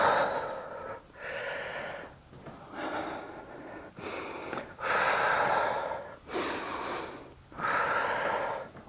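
Heavy, forceful breaths during weight training, long exhales roughly every second or two in a steady rhythm, close and loud with no talking.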